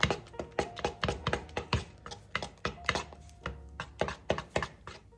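A spoon works through a no-bake candy mixture in a bowl still coated with white chocolate from an earlier batch, giving quick, steady clinks and taps against the bowl's side, close and fairly loud.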